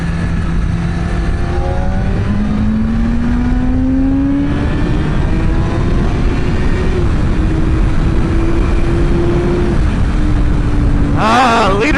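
A Kawasaki ZX10R sport motorcycle engine revs steadily under throttle, a rising drone climbing in pitch with wind roar throughout and a sharper rev burst near the end.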